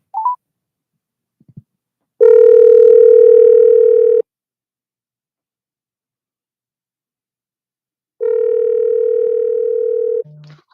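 A telephone line sounds while a call is being placed: two long, loud, steady tones separated by silence, heard up close with a short click at the start and end.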